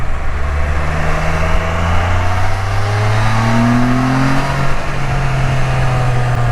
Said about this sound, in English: Oh, a couple motorcycles.